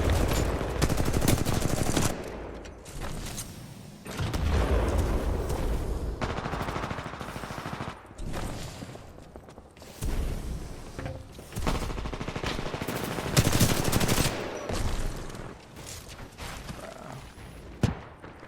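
Video game gunfire rattles in bursts of rapid automatic shots, loud and close, separated by brief pauses and ending with a single sharp crack.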